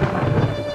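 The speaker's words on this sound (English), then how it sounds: "We've got a pretty good storm moving in on us now, bringing us heavy rain and some big winds." Heavy rain and wind roar during a storm, with a deep thunder rumble beneath the steady noise in a brief burst.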